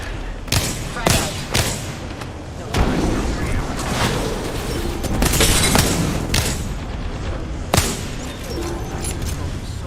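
A frag grenade detonates in a fast-paced shooter video game, one of several deep booms and sharp blasts amid continuous gunfire and loud battle noise.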